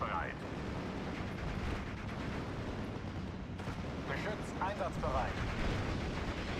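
Artillery firing in the Steel Division: Normandy 44 World War II strategy game gives a dense, continuous rumble of distant shelling, with a player talking over it.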